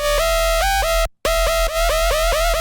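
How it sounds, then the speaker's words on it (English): A harsh, buzzing distorted synth bass from two heavily distorted sine waves detuned by a few steps, with a wobbly character, played as repeated notes with one short gap of silence. "When you add a heavy distortion on top of a sine wave at 0 and another one"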